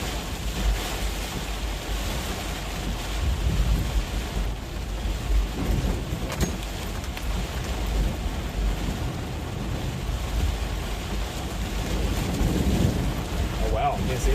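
Heavy thunderstorm rain pounds a car being driven through flooded Richmond, Virginia streets, a steady dense roar of downpour with low rumbling swells of thunder throughout.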